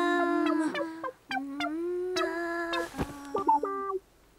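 A voice imitates a chicken's clucking for an animal guessing game, a string of bright, pitched cluck-like calls with short gaps, close and clear with no other sound.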